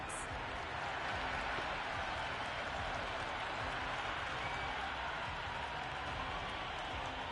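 A cricket video game crowd roars and applauds continuously in a dense, even wash of cheering noise that holds steady throughout.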